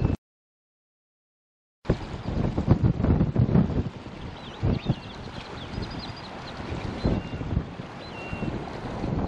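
Strong wind at a lakeside fishing spot buffets the microphone in heavy, gusty rumbles after a brief silence, with faint chirping birds high above the roar.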